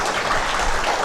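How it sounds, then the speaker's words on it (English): A seminar audience applauds in an even, continuous patter that fills the room for the whole moment. "A big round of applause for CA Saiprasad sir for that fantastic sess"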